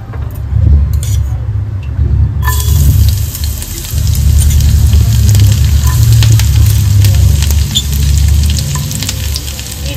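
Chopped garlic and green chillies hit hot oil for restaurant-style Egg 65. A loud, continuous close sizzle breaks out a couple of seconds in and carries on steadily, with faint stirring clinks.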